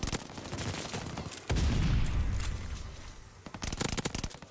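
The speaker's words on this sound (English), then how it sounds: "the burst fire on this thing shoots so fast" AS44 burst-fire gunshots in Call of Duty: Vanguard crackle as rapid, dense volleys, nearly full-auto, with a heavy boom in the middle and further quick bursts near the end.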